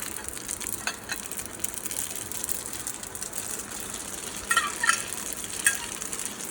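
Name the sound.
spaghetti being added and stirred in a sizzling pan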